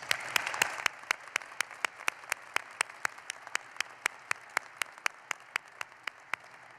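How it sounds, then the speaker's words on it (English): Applause at a university commencement ceremony: a soft, distant crowd wash with one nearby pair of hands clapping sharply in a steady, even rhythm throughout, gradually tapering. "Please join me in applauding these loved ones who've made this day possible for all of you."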